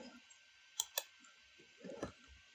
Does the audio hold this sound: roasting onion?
no